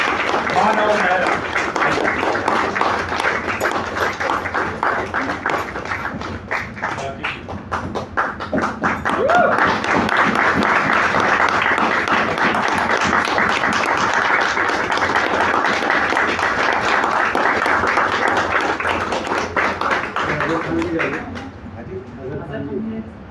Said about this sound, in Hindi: इस नाटक की निर्देशिका राखी मानव, तालियों से राखी मानव और मानव मेहरा।